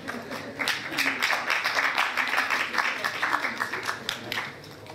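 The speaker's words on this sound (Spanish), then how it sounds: "Un aplauso para ellos." Audience applause at a talk on teaching sexuality to Christian children, a steady patter of many hands clapping at moderate volume across the whole stretch, with some faint voices mixed in.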